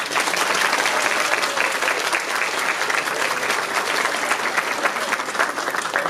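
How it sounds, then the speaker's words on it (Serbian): Big round of applause from the audience at a kindergarten New Year's performance in Mostar, steady dense clapping from many hands sustained throughout without a break. "A sada vas svi molim da jednim velikim aplauzom pozdravimo sve naše učesnike vrtića Nedođe"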